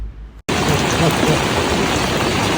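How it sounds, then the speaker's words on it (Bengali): Rain setting in outdoors on a hill path by a stream: after a brief quiet moment, a loud, dense, even hiss of falling rain takes over and holds steadily to the end. "বৃষ্টি শুরু হয়ে গেছে"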